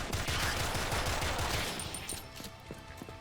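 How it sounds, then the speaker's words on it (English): Rapid gunfire from a video game, Rise of the Gorecats, with dense repeated shots crackling for about two seconds before tapering into a few scattered, quieter reports. "when you shoot like walls, windows, you really feel the power of these guns"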